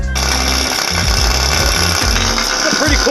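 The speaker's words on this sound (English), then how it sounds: "there's somebody drilling a hole through my freaking floor" Someone drills a hole through a floor, producing a loud, harsh, continuous grinding rattle that sounds close and pulses unevenly, with a voice talking over it.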